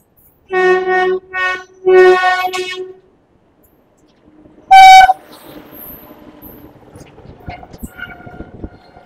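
The 12822 Dhauli Express from Puri pulls into Balasore junction, its horn sounding in loud repeated toots followed by a sharp blast, then a quieter rumble of the arriving train.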